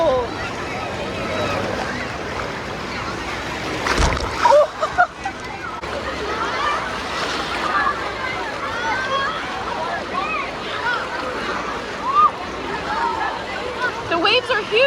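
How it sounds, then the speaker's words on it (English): Surf rolls and splashes at a water park beach, a continuous wash of waves with wind buffeting the microphone and louder bursts of spray; people talk nearby throughout. "The waves are huge today."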